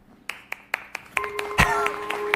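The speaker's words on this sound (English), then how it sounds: "you hear like 3 people clapping" A handful of sharp claps, sparse at first and then a few more hands joining in, close by and brief.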